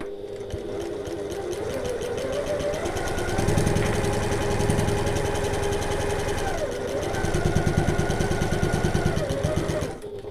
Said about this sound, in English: I'm doing a few back stitches.